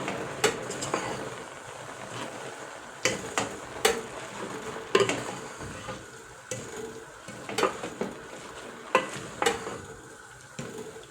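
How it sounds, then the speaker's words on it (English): Pumpkin leaves boil in a pot with a soft steady bubbling, broken by sharp intermittent clinks and taps of a utensil against the pot. "They are boiling. Boiling well and smoothly."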